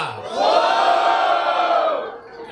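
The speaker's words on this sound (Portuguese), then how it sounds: "Muito barulho pra quem curtiu as rimas do DJ!" A crowd at an outdoor hip hop rap battle in Caraguatatuba, Brazil, roars and cheers loudly and steadily for a couple of seconds, then eases off slightly.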